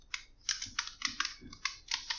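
Code being typed on a computer keyboard in a React JS lesson: a close, quick run of crisp key clicks in an uneven rhythm, with no talking.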